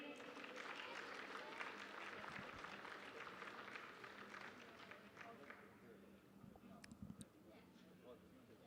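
Crowd applause and clapping at a junior track cycling event in Perth, steady and fairly faint for several seconds, honoring the under-15 boys points race podium, with a voice talking over it.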